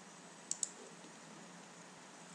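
Mouse clicks at a computer, two quick sharp clicks and then one more after a quiet pause, close and crisp against faint background hiss.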